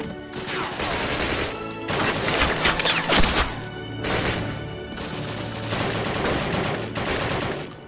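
Dense, continuous gunfire from a Call of Duty campaign battle: overlapping rifle and machine-gun bursts keep up a loud, sustained fusillade with brief lulls and a heavier surge of shots in the middle.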